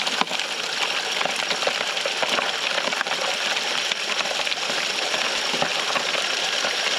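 A bucket of mud turned to sludge is poured out outdoors, giving a steady, wet gushing and splattering hiss that runs evenly for several seconds without talk.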